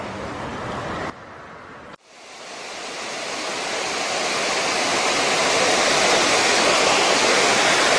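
Loud, steady roar of a river pouring over a weir more than 5.5 metres high, continuous broadband rushing with a brief drop in level near the start before the full roar returns.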